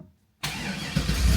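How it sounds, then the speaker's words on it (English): A Pontiac with about 190,000 miles cranks and fires after a brief silence, then settles into a close, loud idle that swells slightly as the engine catches. "let's see if this thing starts."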